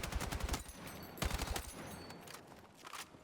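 Rifle fire on the firing range in the video game Battlefield 6: rapid automatic bursts, with a sustained string near the start and another around the middle, then quieter scattered shots.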